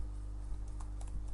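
Keys clack on a computer keyboard while code for a React page using Bootstrap is typed, with a few light, scattered keystrokes over a steady low hum.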